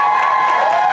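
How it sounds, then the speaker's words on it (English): An audience in a large convention room breaks into applause and cheering, a brief dense wash of clapping and voices that fills the moment. "Give yourselves a round of"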